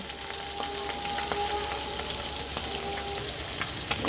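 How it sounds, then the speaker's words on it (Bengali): Small batasi fish frying in hot oil in a pan, a loud, steady, close crackling sizzle with a few faint metallic clinks, no talking. "আমি এখন মাছগুলি ছেড়ে দিই ছোট মাছ তো খুব বেশি ভাজার দরকার নেই জাস্ট এপিট ওপিট করে একটু ভাজলে হয়ে যাবে"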